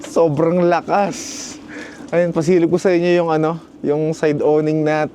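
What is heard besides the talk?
No everyday noise stands out behind the speech.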